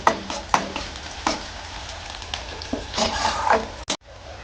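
Chopped onion and slit green chillies fry in oil with dried red chilli in a pan, a soft continuous sizzle broken by scrapes and stirring knocks, ending with a sharp clatter.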